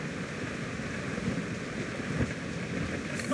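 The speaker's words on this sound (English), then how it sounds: "rough seas there!" Rough seas around a sailing ship in the pirate game Assassin's Creed 4 Black Flag, a dense continuous wash of waves and wind with a low rumbling surge throughout, no voices.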